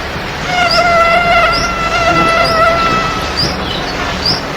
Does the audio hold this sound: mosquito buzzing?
yes